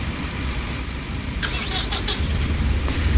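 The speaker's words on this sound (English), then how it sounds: "I'm spreading manure in field 32" A TW35 tractor spreading manure in Farming Simulator 19 runs as a steady engine drone, with brief mechanical whines and clanks near the middle and end.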